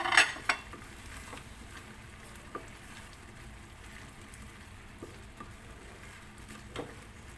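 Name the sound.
stirring dal with chopped cilantro in a pot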